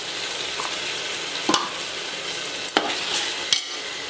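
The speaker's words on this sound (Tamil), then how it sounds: "இப்போ வந்து தயிர் சேர்த்துக்கலாம். 100 ml தயிர்" Yogurt stirred into a sizzling pan of ginger-garlic paste for chicken biryani: a constant hiss of frying with a few sharp scrapes of a utensil against the pan, close and steady without any voice.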